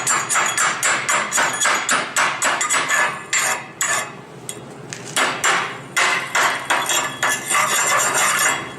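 A hammer chips slag off a fresh stick weld, rapid metallic taps in quick bursts of several strikes, loud and close with short pauses between runs.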